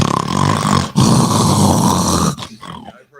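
A man imitates loud, rasping snoring, two long guttural snore sounds in a row, close and forceful, ending with a short trailing breathy snort.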